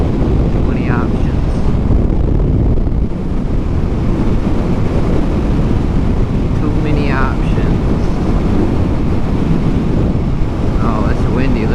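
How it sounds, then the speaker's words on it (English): Heavy wind buffets the microphone in a constant low roar for the whole stretch, with faint voice fragments barely showing through. "Oh, it's windy."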